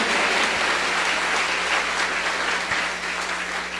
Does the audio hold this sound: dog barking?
no